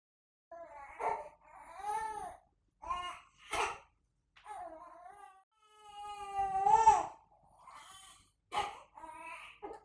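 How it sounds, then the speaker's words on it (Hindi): A baby girl cries in repeated wailing bursts with short pauses, close and clear, rising to a louder peak near the middle. "वहां बच्ची रो रही है और तुम्हें आवाज तक नहीं आ रही?"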